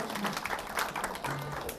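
An audience at a lecture gives a brief round of applause, faint and scattered, with light clapping blending into room murmur for a couple of seconds.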